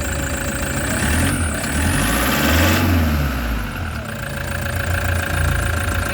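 Toyota Hiace diesel engine idling steadily after common-rail bleeding, a continuous low rumble with slight knocking throughout, close and loud with no talk.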